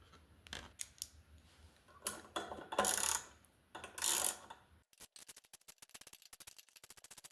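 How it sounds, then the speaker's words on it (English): A socket wrench works 8mm bolts loose from a dirt bike exhaust, giving faint close clicks and scraping bursts, then a fast run of ratcheting ticks at the end. "These bolts are 8mm, so you'll need an 8mm socket to take these bolts out."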